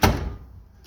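A tool box drawer, the drill bit and punch drawer of an Icon tool box, slides open with a short thunk followed by a fading rattle, close and alone.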